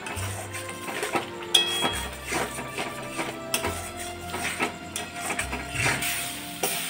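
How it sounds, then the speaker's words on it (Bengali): Pointed gourd being stirred in a pan with salt, turmeric and sugar, giving repeated scraping and clinking of a utensil against the pan alongside a steady background hum, with no talk. "নুন, হলুদ, মিষ্টি দিয়ে একটু ভালো করে নাড়াচাড়া করে নিচ্ছি।"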